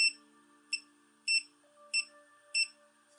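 A series of short electronic beeps from a ToolTop ET2010A multimeter continuity test, five in about three seconds, spaced fairly evenly over a faint steady tone, close and clear.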